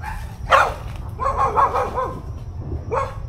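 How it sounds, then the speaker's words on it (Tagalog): A dog barks several times at an abandoned military barracks, sharp yelps spaced irregularly, fairly close over a constant rumbling background. "May aso."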